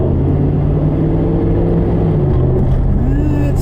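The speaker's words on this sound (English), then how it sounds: "Somebody who's taken the baffle plates out of their exhaust system" A loud car with the baffle plates removed from its exhaust, heard up ahead on the road as a constant deep droning rumble that fills the whole clip and stays steady and close.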